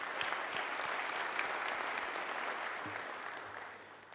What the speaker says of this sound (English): let's give these organizations a round of applause